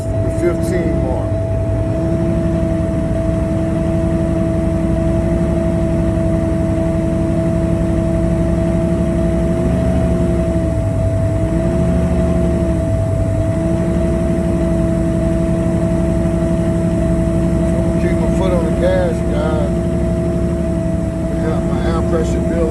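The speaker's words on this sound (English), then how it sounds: "I'm going to give it a little gas to try to help my trailer reach govern the cutoff" A semi truck's diesel engine idles steadily, then is given gas, its pitch rising and holding a few times over the stretch while a voice talks throughout; a constant whine sits above the low rumble.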